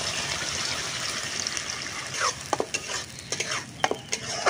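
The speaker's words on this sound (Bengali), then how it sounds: "এটাকে এখন আমি ভালো করে নেড়ে নেব।" Carrot paste ground with milk is stirred in a pan, giving a soft continuous sizzle and wet scraping with a few sharp spoon clicks against the pan toward the end, close and fairly quiet.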